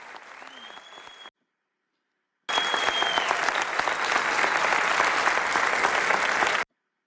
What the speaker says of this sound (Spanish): ovación que le hacen